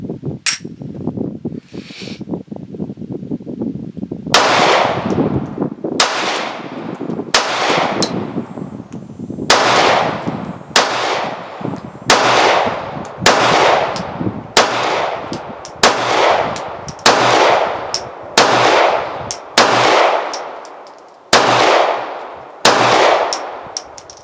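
A second-generation Beretta APX-A1 9mm pistol fires about fifteen loud, close, sharp shots at a steady, spaced rhythm, each with a ringing decay, after a short quiet pause at the start.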